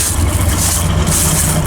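A 1973 El Camino SS with a 454 big block idles from the rear exhaust, a deep, steady, loud rumble heard up close for a brief moment.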